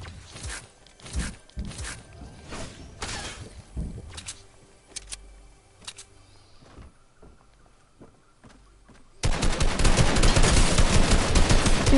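Gunfire from the video game Fortnite, played solo: a series of sharp, close shots and rapid bursts stand out against quieter movement sounds, then a dense, loud stretch of firing takes over at the end.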